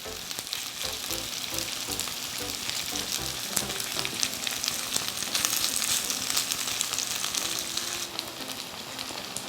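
Steady, dense sizzling of Korean chive pancake batter frying in a hot pan, close and continuous with crackling pops throughout, no voices.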